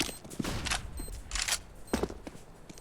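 Rapid bursts of gunfire from the Overwatch 2 video game, several short volleys spread across the moment with a steady game-ambience bed behind them.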